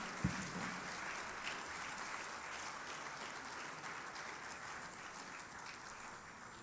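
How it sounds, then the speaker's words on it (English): An audience applauds after a musical performance at an India Independence Day 2017 celebration, a steady wash of distant clapping held at an even level throughout, faint and without voices. "let's have another round of applause for the enthralling musical performance"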